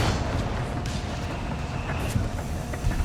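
Tank guns blasting away during a Company of Heroes 3 battle: a dense, continuous wall of heavy booms and rumbling explosions, with a few sharper cracks standing out from the barrage.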